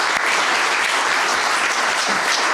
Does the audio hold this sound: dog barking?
no